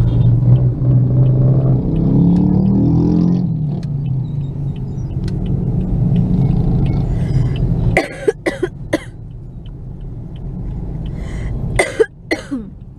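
A Mitsubishi Mirage engine hums and rumbles steadily from inside the car while driving, fairly loud and continuous, then a run of sharp coughs or throat-clearing sounds breaks over it near the end.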